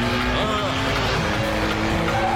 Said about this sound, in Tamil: நீ ரோட்டை பார்த்து வண்டியை வேகமா ஓட்டு.